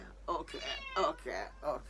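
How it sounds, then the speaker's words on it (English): A cat meows several times in short, clear calls spaced about half a second apart, close by and fairly quiet. "We have a cat."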